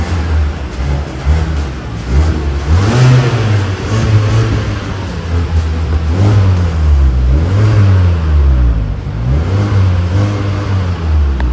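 Stock dual exhaust of a new Mazda 3 hatchback with the engine revving, a loud, steady throaty drone rising and falling in pitch over several swells and heard alone.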